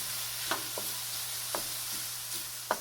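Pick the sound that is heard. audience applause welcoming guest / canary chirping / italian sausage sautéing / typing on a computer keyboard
italian sausage sautéing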